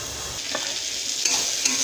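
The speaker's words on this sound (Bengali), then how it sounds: "এবার আমি খারকোল পাতাটাকে ঢেকে দেবো, ঢেকে দিয়ে সুন্দর করে ভাজবো।" Kharkol leaves fry in a pan over low gas, giving a steady, close sizzle with a few faint clinks of stirring.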